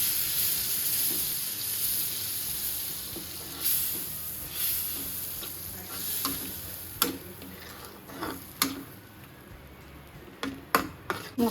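Spices sizzle in oil alongside fish for a curry, with a steady low hiss of frying and scattered sharp ticks and spatters of stirring that grow more frequent toward the end, close and fairly quiet.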